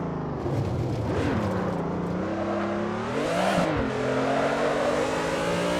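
A BMW M3 E30 racing up a hill climb in Assetto Corsa, its engine revving hard and climbing in pitch through the gears with a brief dip and surge, loud and continuous without speech.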